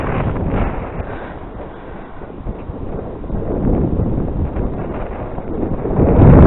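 Strong gusts buffet the microphone outdoors on a very windy day, a loud, continuous low roar that swells and eases and builds again toward the end, with no voices.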